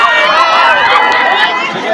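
Large crowd of festival spectators gathered near a Shiva temple, loud dense chatter and shouting from many voices close by, continuous with no pauses.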